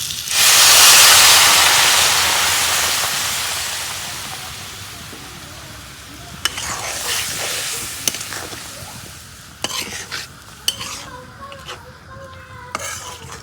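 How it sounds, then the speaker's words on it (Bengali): Potatoes sautéing in a pan of oil and spices, starting with a loud rushing sizzle that gradually settles, then sharp scrapes and clinks as they are stirred and turned, no voices. "মাছে ঝোল দিয়ে এখন আমি আলুগুলা প্রথমে কষে নেব।"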